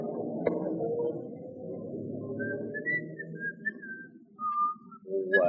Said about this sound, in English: if you get into trouble, blow your whistle